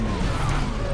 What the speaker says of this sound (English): Ground pound!